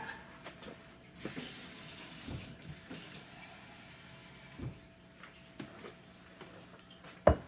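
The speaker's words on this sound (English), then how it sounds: "Let's add a little bit more water." Water runs from a tap into a container of red cabbage indicator in short pours and splashes, with small clinks and a sharp knock at the end.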